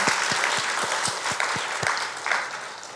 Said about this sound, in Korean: 우리 감사하고 위로하는 박수를 하겠습니다.